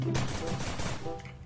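Shotgun fire from SPAS and M1887 weapons in a video game, heard as a dense burst of loud blasts crowding together over about a second and a half, with no talking.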